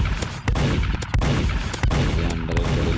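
Rapid gunfire in a Skibidi Toilet shooting game, a dense string of sharp shots fired at toilet enemies, loud and close, with brief gaps between bursts and no speech.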